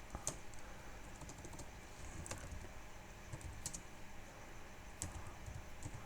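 Quiet, steady typing of code on a computer keyboard, a continuous patter of soft key clicks with occasional sharper taps, heard alone without talking.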